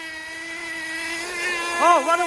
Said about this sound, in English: I'm no expert, but I'm trying to tune up the engine.